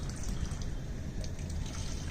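Salt water is poured and mixed into a jug for jal neti, a close, steady trickle and splash of liquid filling the vessel without pause.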